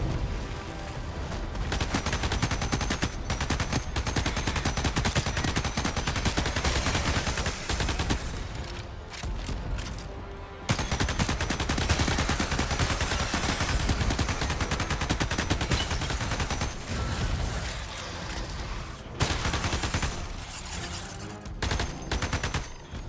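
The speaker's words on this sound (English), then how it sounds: "The gun sounds weak." Rapid, dense automatic gunfire from a Starship Troopers video game, loud and nearly continuous throughout, with a brief lull partway through and no talking.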